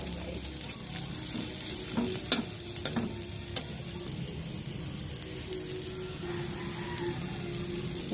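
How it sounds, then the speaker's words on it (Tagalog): Buro, a fermented rice, sautéing with chili in a pan, giving a steady, close sizzle of frying with scattered spoon clinks and scrapes running continuously throughout. "So, magigisa tayo ngayon ng buro."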